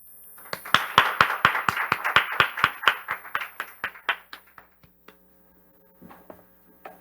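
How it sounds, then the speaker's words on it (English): Audience applause at a heritage conference session, heard as a fairly sparse run of distinct hand claps, as if from a smaller group, that thins out and stops after about four seconds, leaving near silence. "Please welcome her to the stage with a big round of applause."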